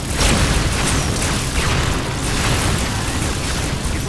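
Low-yield photon torpedo blasts in a Star Trek space battle, a continuous loud rumbling boom with dense low-end roar and crackling debris, sustained without a break and with no talk over it.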